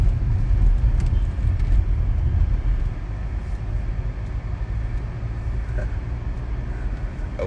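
Low, steady road rumble from inside a moving car, a dense drone with faint scattered clicks and no speech.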